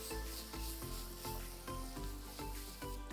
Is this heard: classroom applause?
no